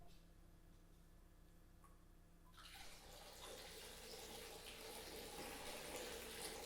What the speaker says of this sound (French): Elle puise l'eau.